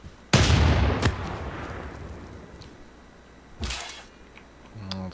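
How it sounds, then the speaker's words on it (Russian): Cannon ranged attack in Civilization VI: a sharp artillery boom with a long rumbling decay, a second crack shortly after, then another distant boom later and a faint thud near the end. "Пушка, дальнобойная атака."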